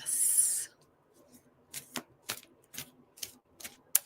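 Tarot cards are shuffled by hand: a brief hissing riffle at first, then a string of about eight sharp, separate slaps and snaps as cards are cut and tapped together, close and fairly quiet.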